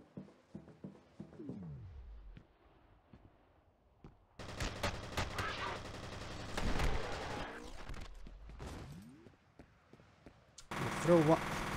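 Automatic turret gunfire in the shooter game F.E.A.R., heard as bursts of rapid shots and impacts that swell loudly through the middle, mixed with other game effects and a voice.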